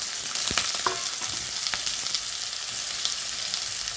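Potato pieces with salt and turmeric crackle and sizzle in hot oil for an eel curry, a continuous close frying hiss broken by a few sharp pops and spatula clinks near the start.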